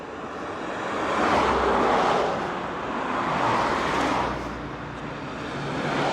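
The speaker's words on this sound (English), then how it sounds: "Now these cars are getting closer and closer to me." Cars passing on a road in Miri, Borneo, swell and fade as they approach and go by, a broad whooshing rush under steady wind noise with no talk.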